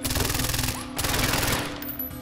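Rapid automatic gunfire in the video game Far Cry 4, loud rattling bursts fired in quick succession with a brief pause midway.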